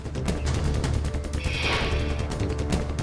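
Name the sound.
firecrackers bursting outside a house in Delhi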